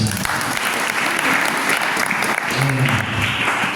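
A church congregation claps together in sustained, dense applause that runs loud and steady throughout, with a few voices faintly mixed into the crowd.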